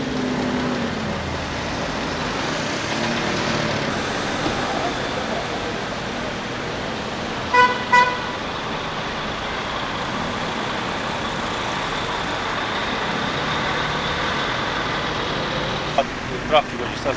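Congested town street traffic in Nocera Inferiore, with a continuous drone of engines and a couple of short car horn blasts, one near the middle and more near the end, under ongoing talk.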